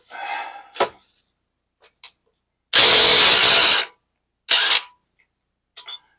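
A pneumatic impact gun working on a CV axle replacement on a 2013 fifth-generation Camaro SS: one loud sustained burst of about a second, then a shorter burst, with scattered clicks and tool handling in between, close up.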